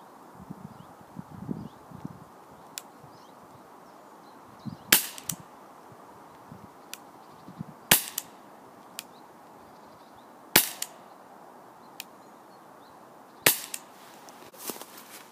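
Gunshots at outdoor target shooting, two shooters each firing four rounds: five or six sharp, loud cracks spaced a few seconds apart, separated by quieter rustling and handling sounds.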